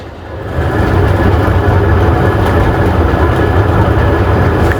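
A passenger train travelling fast at around 40, heard from aboard as a constant heavy rumble that swells up after the first half second and holds steady and loud.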